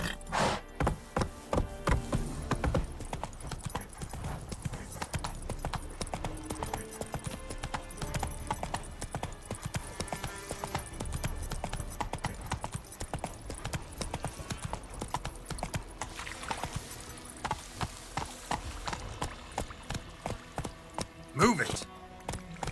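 Steady clip-clop of Roach the horse trotting in The Witcher 3: Wild Hunt, close hoofbeats in an even rhythm over game music and ambience, with a brief whinny-like accent near the end.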